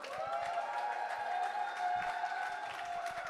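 Crowd at a live roller derby bout applauding the Rockcity Rollers, with steady, sustained clapping spread across the arena over a faint background of music.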